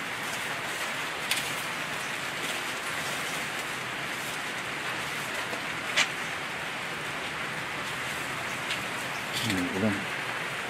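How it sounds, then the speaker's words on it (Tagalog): Steady rain falls outside a house as an even, hissing patter, close and moderate, with a few sharp drips or knocks and a short low rumble near the end. "Ulan."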